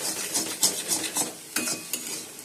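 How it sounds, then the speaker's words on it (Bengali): Masala being stirred and fried in a pan for a fish-head and potato curry, with a rhythmic scraping of the spoon over a steady sizzle, close and fairly loud, no voices. "এবার মশলাটাকে কষিয়ে নিচ্ছি"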